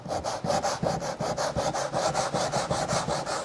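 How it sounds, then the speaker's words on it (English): Sandpaper wrapped around a shaped block rubs back and forth over a wooden window profile, making a steady run of quick, even scraping strokes, close and fairly loud, with no talking. "you can wrap your sandpaper around all of these different shapes to get into a special profile like that"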